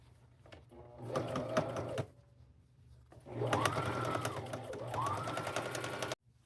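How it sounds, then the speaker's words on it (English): Sewing machine stitching fabric panels for a tunic, running in two steady bursts of rapid mechanical whirring, about two seconds and then three seconds long, with a short pause between them. "I'm going to sew these together, pin it and sew it together right here"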